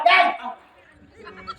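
A man imitates a dog barking with a single loud, close vocal yelp at the start, then only faint murmuring and rustle.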